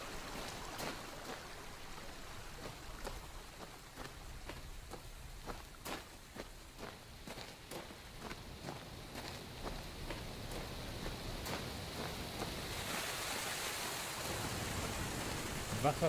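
Rushing waterfall in the video game Obduction, a steady broadband roar of falling water heard throughout, with light clicking footsteps over it and a slight rise in intensity toward the end.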